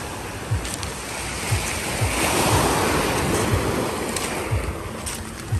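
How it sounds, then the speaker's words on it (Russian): Sea waves roll onto Lazarevskoye beach in a steady surf wash, with soft breaking surges and light wind buffeting the microphone, heard alone without voices. "море холодное стало"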